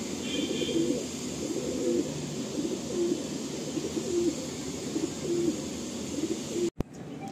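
Madrasi pigeons in a loft coo repeatedly in soft, rhythmic rolling calls under steady room noise, with a sharp knock near the end.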